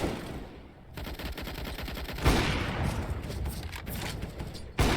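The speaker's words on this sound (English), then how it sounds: "Shots going out on A, and first kill for Atris here." Rapid gunfire bursts crack out during a Counter-Strike esports match, with loud dense volleys and short pauses, heard alone without speech.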